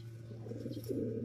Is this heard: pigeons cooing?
yes